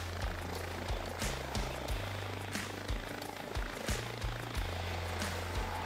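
A military training helicopter hovers at a fixed height while moving toward its takeoff position at a naval air training unit, its steady rotor and engine roar loud and continuous with a low pulsing throb and no voices.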